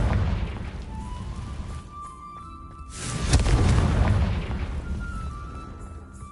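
A magical blasting spell explodes in a video game: a single deep boom bursts out mid-clip and swells into a rolling rumble that fades over a few seconds, with fainter game sounds before and after.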